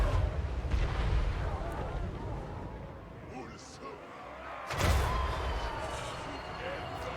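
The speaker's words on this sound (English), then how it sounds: "Hell cannon coming in for another one." Hellcannon artillery fires in Total War: Warhammer 3 during a Chaos Dwarfs battle, with loud booming blasts over dense continuous battle noise and a sharp heavy shot partway through.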